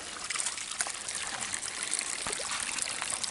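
Water trickles and splashes out through a leak in a dam, a steady, fairly close gurgling hiss with small irregular drips and no voices.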